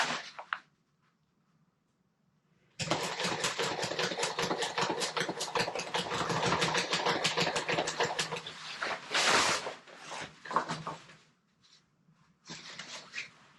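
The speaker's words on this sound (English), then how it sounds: "number 92 thread, which is as heavy a thread as I can sew with this machine" A sewing machine stitches a sailboat jib sail with heavy number 92 thread, a rapid mechanical whirring in a steady burst of several seconds, then shorter runs separated by pauses.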